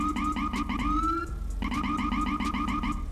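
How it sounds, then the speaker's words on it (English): A police siren in GTA 5 with the LSPDFR mod blips in short repeated yelping bursts with a brief pause, loud and close, with no voices. "You could blip the siren like this."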